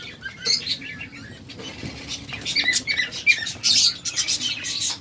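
Caged pet birds, quails and budgerigars, chirping in bright overlapping bursts with occasional fluttering wing flaps and light patter, fairly close, no talking.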